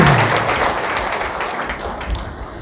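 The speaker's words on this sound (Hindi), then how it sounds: "एक बार और ताली बजाइए बढ़िया से इन लोगों के लिए" Audience applause fills a hall at a Hindi spiritual discourse, a dense, steady wash of many hands clapping close and loud throughout, slowly thinning toward the end with no speech over it.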